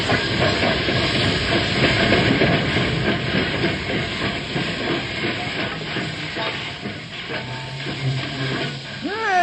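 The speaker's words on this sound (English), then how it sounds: "The train just pulled in." A steam train pulls into a station with a loud, steady hiss of steam that carries throughout, faint rolling rail clatter underneath and a brief whistle-like rising tone at the very end.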